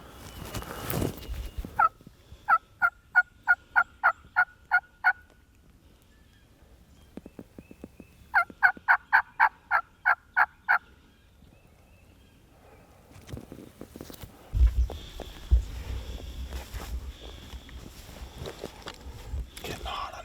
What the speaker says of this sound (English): They're gobbling in the bottom, but it gets hard to tell how deep it is.